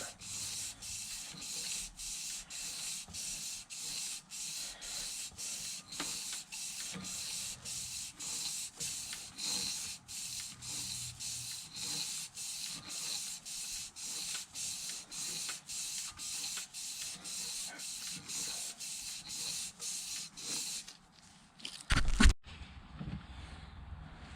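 Rhythmic back-and-forth rasping of sandpaper on metal engine parts, steady strokes for about twenty seconds, then a few clunks and quiet.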